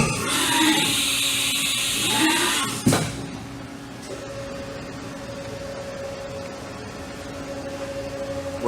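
A 2010 Haas TM1P CNC mill spindle turns at 2,000 RPM with a steady mechanical whine, starting with a brief clunk and settling into a constant hum running on three-phase power in a shop.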